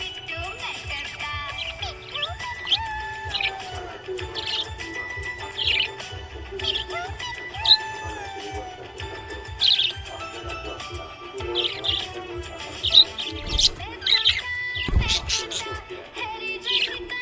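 A happy budgie chirps in quick, bright bursts and short trills, scattered irregularly over a tinkling musical backing, fairly close and clear.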